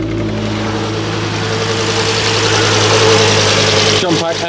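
A Ford Focus RS Mk2 with its 2.5 engine, crash-damaged, idles steadily just after starting, a loud continuous rumble filling the whole stretch before a brief disturbance near the end.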